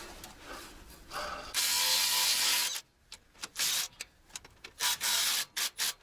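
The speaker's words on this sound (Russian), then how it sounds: "Сейчас отпустим вот эти 3 болта гидроусилителя и оденем ремни." Ratchet wrench loosening power steering pump bolts on a truck crane, a long buzzing ratchet run followed by a series of short, distinct clicking strokes, close and fairly quiet.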